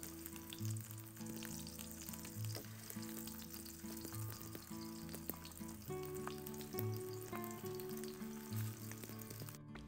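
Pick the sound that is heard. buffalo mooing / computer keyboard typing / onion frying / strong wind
onion frying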